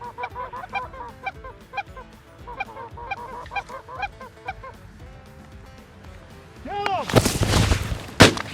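Geese honk repeatedly during a goose hunt in Wisconsin, then a quick burst of loud close gunshots rings out near the end, with a faint voice nearby.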